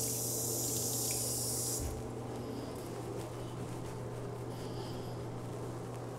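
Tap water running into a hotel bathroom sink while soap is rinsed off hands, a steady close hiss that carries on alone, louder and brighter for the first two seconds then settling into a softer flow.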